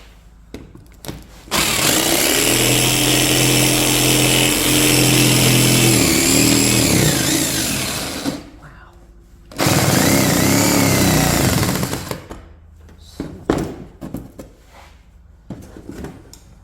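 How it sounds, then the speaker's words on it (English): A power drill boring a hole during the build of a passive solar heater, two long loud whining bursts of about seven and three seconds with a brief pause between them, up close, followed by lighter handling clatter and no talk. "I went ahead and drilled that hole out"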